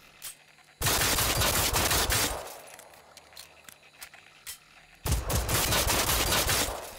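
Bursts of rapid gunfire from the video game Generation Zero, two long loud volleys separated by a quieter stretch with a few scattered shots, no talking.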